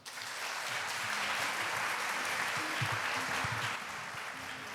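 An audience at a conference in Pohang, South Korea claps steadily and warmly for the mayor, a dense wash of applause that holds at an even level for several seconds.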